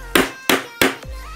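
Three sharp, evenly spaced taps of a small hammer punching holes in Alcantara during car dashboard upholstery work, close and loud with quick decays and no talk.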